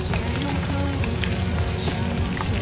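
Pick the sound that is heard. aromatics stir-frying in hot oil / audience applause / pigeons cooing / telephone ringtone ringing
aromatics stir-frying in hot oil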